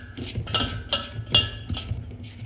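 Rice flour, semolina and maida are stirred together in a bowl, with a spoon giving a few soft clinks against the rim over a low, steady rubbing, close and fairly quiet.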